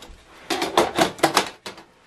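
An HP ENVY 4527 printer is shut after a paper jam is cleared, producing a quick run of close plastic clacks and knocks, then one last click.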